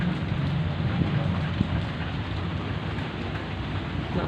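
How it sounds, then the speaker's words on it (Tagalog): Steady rain falling on a wet, rainy day, a continuous dense hiss with low rumbling body, fairly close and even throughout with no talking. "Kanina pa umuulan. Kaninang maga pa. Ayan. It's raining."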